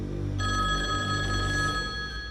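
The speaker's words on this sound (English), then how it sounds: "the dial-up telephone rings" An old dial-up telephone rings, a sustained bright tonal bell ring starting suddenly and holding steady for about two seconds, fairly close and alone.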